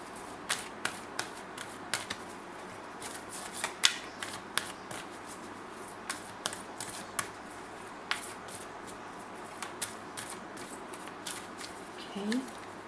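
Archangel Oracle cards are shuffled by hand in a steady run of soft, quick riffling taps and flicks, close and quiet, continuing for several seconds.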